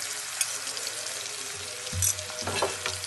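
Garlic, potato and capsicum frying in a pan for a dhaba-style aloo capsicum sabzi, a steady close sizzle with a few clinks and scrapes of a spoon against the pan.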